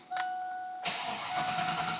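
A 1988 Ford Mustang GT V8 with an E303 cam starts: a brief key or starter noise, then the engine catches and runs loud and close, a steady broadband roar filling the rest of the clip.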